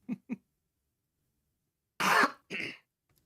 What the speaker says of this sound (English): I've been needing to cough for like an hour